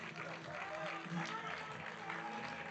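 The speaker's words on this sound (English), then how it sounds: "As DeBeck gets a big round of applause." Stadium crowd at a college baseball game between Michigan and Western Michigan applauds steadily for a pitcher, a dense continuous clatter of clapping and cheering that holds at an even level throughout.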